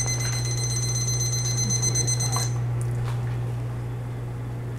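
A steady high-pitched electronic alarm tone, signalling boiling point in an alcohol stove water-boiling test, sounds over a low mains hum, then cuts off halfway through, leaving only the hum.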